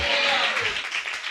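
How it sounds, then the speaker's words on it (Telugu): An audience claps hands loudly at a Telugu church gathering, a brief dense burst of applause with a voice over it. "గట్టిగా బిగ్గరగా మరోసారి చప్పట్లు కొడుతూ"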